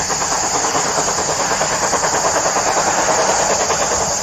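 The Mary Valley Rattler steam train passes close and loud, a continuous roar of hissing steam over rhythmic clattering wheels that holds steady throughout.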